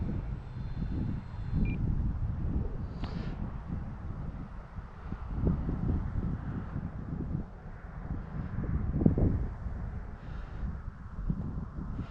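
A Flyzone Eluna remote-control airplane drones overhead, a faint, steady motor hum mixed with gusty wind noise outdoors, with no voices.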